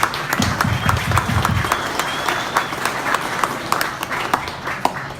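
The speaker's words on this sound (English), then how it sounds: "So give yourselves all a big round of applause for coming." Audience applause fills a fundraiser event for Surf For All, steady clapping from a crowd for about five seconds, with some low voices underneath at the start.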